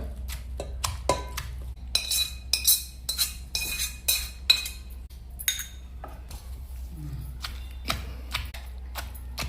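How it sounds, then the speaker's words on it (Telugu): Ivy gourd pieces are pounded into chutney in a village-style stone mortar: sharp, irregular knocks and clinks of stone on stone, some in quick bursts, over a low steady hum. "దొండకాయ ముక్కలు కూడా వేసి ఇప్పుడు మనము బాగా దంచుకోవాలి మిక్స్ అయ్యేటట్టుగా"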